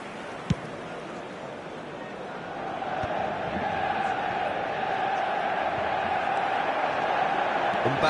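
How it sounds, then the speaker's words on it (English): Stadium crowd in the eFootball soccer video game reacting after a shot, a broad sustained roar that swells gradually and holds at a steady level, with no voices standing out. "Well, at least the crowd are appreciative of his efforts."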